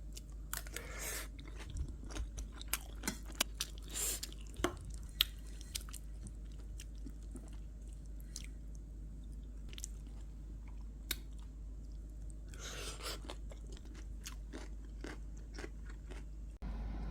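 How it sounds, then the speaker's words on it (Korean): Bibimbap eaten with egg, heard as quiet close-up chewing and soft crunching bites repeating at an uneven pace, with no talking. "계란이랑 곁들여 먹으니까 더 맛있습니다."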